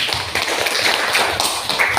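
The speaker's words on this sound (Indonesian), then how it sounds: "Berikan tepuk tangan" Classroom students clap together for a correct answer, a short, steady round of close, fairly loud claps with no talking.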